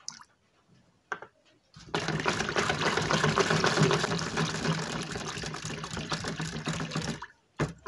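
Liquid brown colorant pours steadily into a homemade laundry soap mixture, a continuous splashing, trickling stream that runs for several seconds after a brief quiet start, then stops abruptly.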